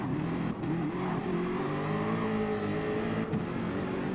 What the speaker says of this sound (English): when you hear the sound of that car, you hear the sound of the GT3 GT